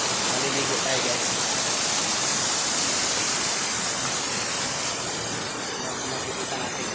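Small waterfall on the Malangsa River, a steady close rush of falling water that stays even and unbroken from start to finish.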